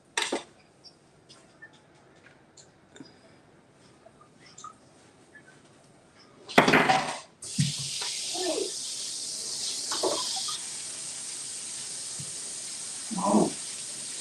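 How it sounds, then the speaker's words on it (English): Something is rinsed under a running kitchen tap after a few scattered knocks and a brief burst, then a steady hissing stream of water runs close by with occasional clinks. "Let me go rinse this off real quick here."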